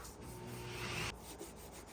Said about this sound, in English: It should not sound like sandpaper when you rub clear coat.